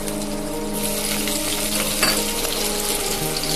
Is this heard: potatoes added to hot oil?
yes